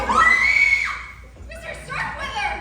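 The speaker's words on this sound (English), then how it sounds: "I heard a scream." A high, sustained scream rises and holds at a piercing pitch during a live stage murder-mystery play, then breaks off as other voices call out excitedly in the theatre.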